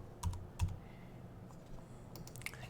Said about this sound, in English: So we're just going to type in the word subscribe.